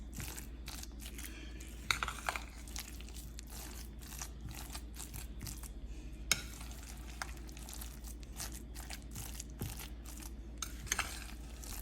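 Eggplant kabab mixture with chopped cilantro is stirred and pressed by hand in a bowl, giving soft, irregular squelching and crunching strokes with occasional sharper knocks against the dish, close and fairly quiet.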